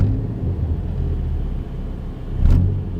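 A car with a worn motor mount rumbles under throttle, a continuous low engine drone with a brief surge near the end. Loose items in the cabin may be shaking.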